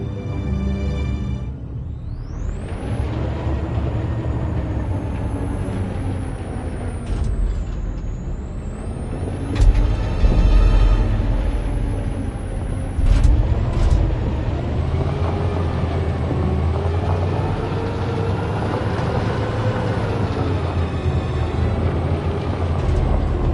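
A truck driving in the video game Detroit: Become Human, a steady loud engine rumble with a rising whine and brief hissing bursts, close and continuous with no talking.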